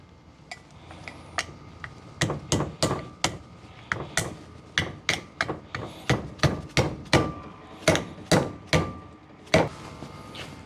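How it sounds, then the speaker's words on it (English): Sharp mallet blows strike a front brake disc on a Mustang during a brake conversion, about twenty close, loud knocks in uneven bursts, some quick doubles, with no voices. "And then with the mallet, oops."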